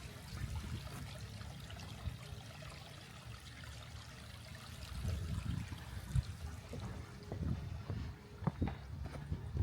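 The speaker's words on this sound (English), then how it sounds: "Can you hear the water?" Steady low rush of flowing water at the Saugus Iron Works site continues throughout, with occasional small splashes and trickles near the end.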